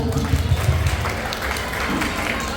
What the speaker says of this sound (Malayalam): നമ്മുടെ ചെറിയ കുട്ടികൾക്ക് വേണ്ടി ആയിട്ട് ഒരുമിച്ച് ഒരു നല്ല കൈയടി കൊടുക്കുക